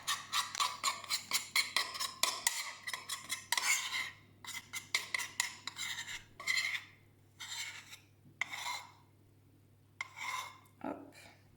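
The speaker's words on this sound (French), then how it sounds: "Mélanger avec la maryse." Spatula scraping and stirring chocolate ganache with Nutella in a bowl, a quick rhythmic series of close rasping strokes that slows into longer, spaced-out sweeps.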